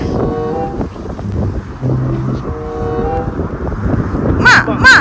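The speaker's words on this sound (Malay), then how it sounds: "Angin kuat." Strong wind at a camping spot by a trout river in Naryn, Kyrgyzstan, roars steadily across the microphone, buffeting it throughout while voices talk over it.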